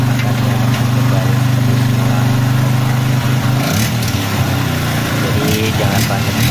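A freshly assembled Yamaha Jupiter MX motorcycle engine runs close by after a warm start, with a loud, steady idle that shifts pitch and roughens partway through as the revs change.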